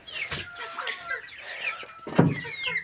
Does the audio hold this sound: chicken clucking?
yes